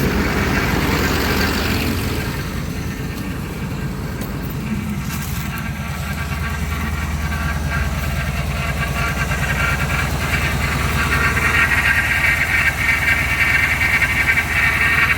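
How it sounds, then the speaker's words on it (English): A Chevrolet K10 truck idles steadily on fast idle, its engine a close, continuous mid-pitched drone with a strained whine from a struggling, aerated power steering pump running through it. "Power steering pump ain't happy."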